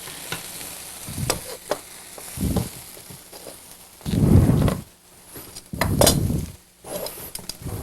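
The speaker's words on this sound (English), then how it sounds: "Here's a fresh vegetable saute here." Fresh vegetable sauté in a pan, a soft sizzle with stirring, utensil scrapes and clinks against the pan, heard in several close bursts.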